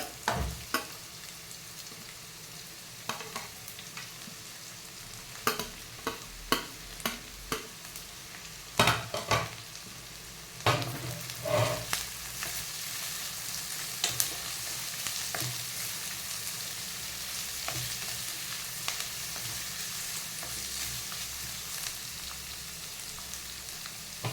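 Carrots and capsicum frying for veg pulao, stirred with irregular sharp scrapes and taps over a steady soft sizzle, close and fairly quiet, no voices.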